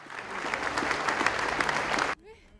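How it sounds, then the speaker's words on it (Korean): Dense, even applause echoes inside a government office building during a justice minister's departure, holding strong for about two seconds before cutting off abruptly as a voice begins speaking. "정부 청사를 울리는 박수 속에서"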